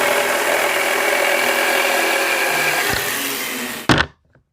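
A power saw cuts wooden planks for a homemade chapati maker body, a steady, loud grinding whine that runs unbroken for nearly four seconds, then ends in a sharp clunk and quick fade.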